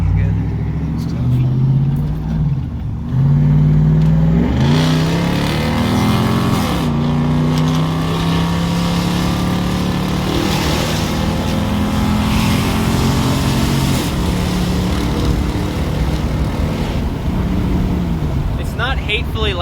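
A straight-piped Cummins diesel truck with a 4-inch exhaust roars loudly and steadily, rising and falling as it is revved and driven, with low, droning exhaust that fills the whole stretch.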